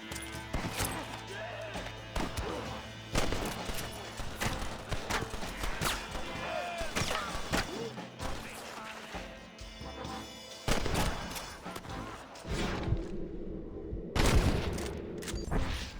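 Gunfire rattles through a Red Dead Redemption shootout on PS5, with bursts of shots and crashing impacts spread across the stretch, loud and dense, mixed with game voices talking throughout.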